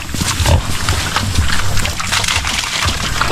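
Free-range sows on a muddy farm feed greedily on water spinach, with steady loud chomping, snuffling and grunting close by in a dense, continuous mass of noise.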